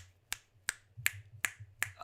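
Five sharp finger snaps at a steady, evenly spaced rhythm ring out close and crisp over a faint low hum, with no talking.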